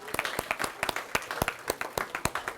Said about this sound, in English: So let's give an applause for the potential members.